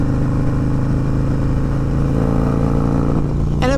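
A Harley-Davidson M8 bagger engine rumbles loud and close through an S&S Sidewinder 2-1 exhaust, with a deep, steady throb that rises slightly toward the end.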